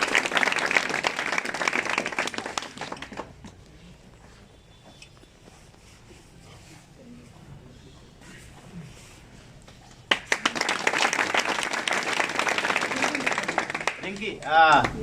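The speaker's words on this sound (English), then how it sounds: "Please clap." Students in a classroom clap for a classmate who won third place in a test. A loud burst of many hands fades into a long quiet stretch, then a second strong round of clapping follows, with voices near the end.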